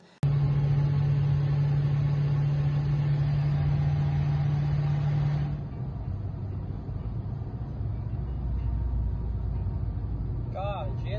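A car driving flat out on a German autobahn with no speed limit: a loud, steady engine and road drone fills the whole stretch, with a strong steady tone that drops away midway as the roar eases into a broader rumble of tyre and wind noise.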